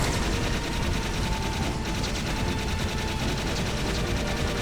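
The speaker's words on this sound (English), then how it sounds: "I'm shooting him right in the face, and he's unfazed" Rapid gunfire in the video game Jak 3, a dense, continuous burst of shots that stays loud and unbroken throughout, with a busy mechanical clatter underneath.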